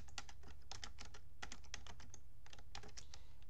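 Fingers type quickly on a computer keyboard, producing close, steady bursts of crisp key clicks in an irregular rhythm with no voices present.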